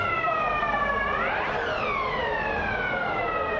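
Sirens on a long convoy of official vehicles wail with rising and falling pitch sweeps, loud and continuous over a dense rumble of traffic.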